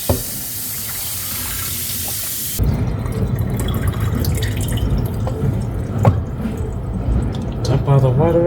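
Water runs from a kitchen tap into a sink while steak is rinsed for teriyaki, a steady hiss giving way to splashing, dripping and sloshing as the meat is handled, close and loud, with voices talking over it.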